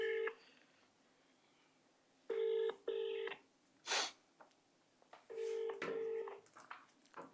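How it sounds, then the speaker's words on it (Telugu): Phone call being placed: several bursts of dialing or ringback tones sound in pairs, separated by pauses, with a brief sharp click between them, fairly quiet and clear. "నాగాచారి గారు ఫోన్ ఎత్తండి సార్ దయచేసి."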